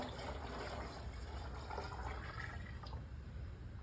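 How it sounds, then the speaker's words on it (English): Used engine oil from an Infiniti Q40/G37/G35 oil change pours into a big bucket, a steady close liquid gurgle and trickle running unbroken for a few seconds with no talking. "So what I normally do, I pour my oil in this big bucket right here."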